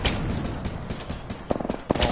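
Gunfire in the Apex Legends video game, a rapid burst of sharp, close shots in quick succession, with a couple of short clustered volleys near the end.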